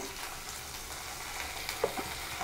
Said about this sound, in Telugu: ఈ అల్లం వెల్లుల్లి పేస్ట్ ఈ ఆయిల్లో కొంచెం ఫ్రై అవ్వనివ్వాలండి